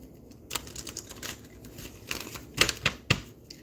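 Tarot cards shuffled by hand during a spiritual reading, giving a few soft riffling bursts and sharp card snaps close by, quiet and without talk.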